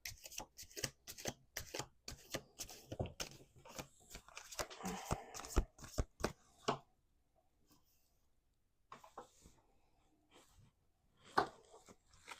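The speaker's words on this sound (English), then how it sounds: "Let's do 2 more shuffles." Cards riffle and snap in quick bursts of crisp clicks, followed by a quiet pause and a few more softer shuffles near the end.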